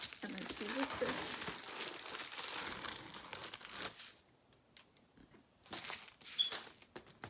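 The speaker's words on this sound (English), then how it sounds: "I can't open this either, so let's just tear it right here" A plastic shipping package is torn open by hand, making bursts of close crinkling and ripping plastic, then a short quiet pause and more crinkling.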